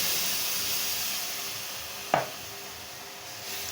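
Tomato paste goes into a pan of frying garlic and onion, giving a single brief sizzling splash over a steady low hiss of cooking, quiet and close with no talking.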